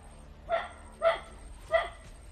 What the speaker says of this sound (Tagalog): dahil napakarami po ng aso.